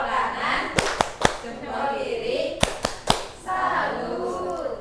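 A group performs the tepuk salut clapping chant in a classroom setting. Two crisp bursts of three rhythmic claps are separated by a voice leading the chant.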